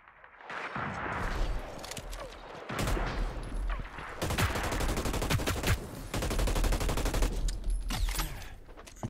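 A long-range weapon firing in the video game Hyper Scape, with loud repeated shot bursts across most of the stretch over busy game effects and ambience and a brief quieter gap early on.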